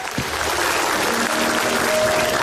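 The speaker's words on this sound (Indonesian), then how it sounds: "tepuk tangan untuk Kimau." Studio audience clapping on an Indonesian TV comedy talk show, a steady dense wash of applause filling the whole moment with no voices on top.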